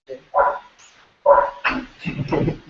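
A dog barks in a few sharp, loud bursts close by, with short gaps between the barks and some background sound mixed in.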